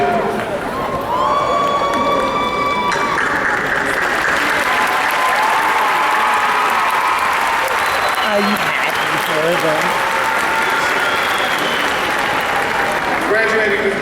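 Audience applause at a graduation ceremony honoring students, loud sustained clapping from a large crowd with some cheering, filling the whole stretch while a voice speaks over it at times.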